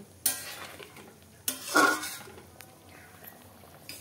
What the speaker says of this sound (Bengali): এবার সব কিছু দিয়ে এটাকে ভালো করে নেড়ে চেড়ে 15 মিনিট মতো আমি ফুটিয়ে নেব।